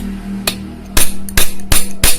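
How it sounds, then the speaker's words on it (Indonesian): Hammer blows on a steel chisel knocking out the steering head bearing of a Yamaha automatic scooter, with one lighter tap followed by four loud, sharp metallic strikes in an uneven rhythm, close by, over a low steady hum. "untuk pelepasannya kita gunakan betel atau pahat ya. Kita pukul dari sini"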